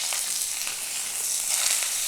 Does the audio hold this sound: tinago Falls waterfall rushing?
no